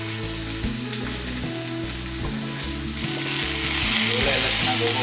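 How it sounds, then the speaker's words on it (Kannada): A tamarind juice mixture with asafoetida fries in a pan while being stirred, making a loud, continuous close sizzle with a low hum and scraping of the spoon underneath, no one talking. "ಎಲ್ಲ ಚೆನ್ನಾಗಿ ಹೋಗೋವರೆಗೂ ಫ್ರೈ ಆಗಬೇಕು."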